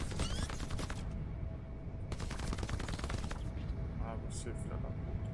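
Two bursts of rapid automatic gunfire in the video game Crackdown 3, each lasting over a second, with scattered single shots and low rumbling game audio filling the gaps.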